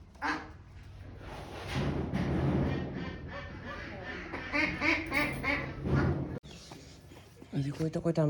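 Domestic ducks from a flock hit by a run of deaths quack repeatedly and loudly nearby in uneven bursts, with a brief break near the end before more quacking.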